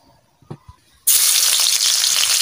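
Bitter gourd and potatoes hit hot oil with an abrupt, loud, steady sizzle that starts after a few quiet taps and carries on unbroken to the end.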